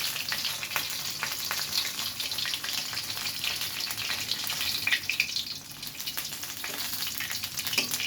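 Snacks such as crispy eggplant fritters, peanuts and chicken pieces frying in hot oil, giving a steady, dense sizzle that bubbles on continuously with occasional stirring, close and alone without talk.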